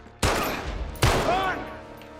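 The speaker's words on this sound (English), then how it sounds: "Carter, pull the trigger" Gunshots in the video game Uncharted 3, two sharp loud bursts each trailing into a ringing decay, close and prominent.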